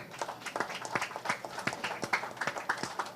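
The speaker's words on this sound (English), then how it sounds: "Please, a big round of applause." A smallish audience claps steadily at a book launch for Shobhaa De's novel 'Insatiable', with close, crisp individual hand claps forming an uneven, continuous patter for about three seconds.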